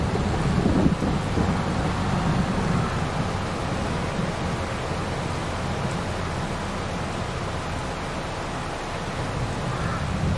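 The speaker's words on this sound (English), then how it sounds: "I wonder what the reduction in yield is when it rains." Steady rain and rolling thunder in the farming video game Farming Simulator 22, a dense continuous wash of rainfall with low rumbles underneath and no pauses.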